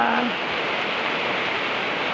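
Heavy rain falling as a steady, dense hiss that stays even throughout, with no talk.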